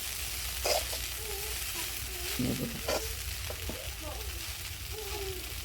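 Kanda pohe cooking in a pan, giving a soft, steady sizzle close by with a few light spoon clicks and faint voice-like murmurs mixed in.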